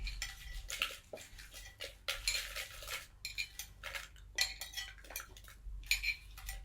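Cucumber salad with 25 dried chilies and garlic is pounded in a mortar, making a steady run of close, sharp clacking strikes in an uneven rhythm.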